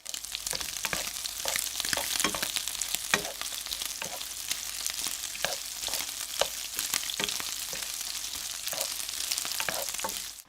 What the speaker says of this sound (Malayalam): ഇനി ഇത് നമുക്ക് നന്നായിട്ടൊന്ന് വഴറ്റിയെടുക്കാം